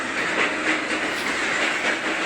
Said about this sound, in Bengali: ট্রেন আমি চালাইতেছি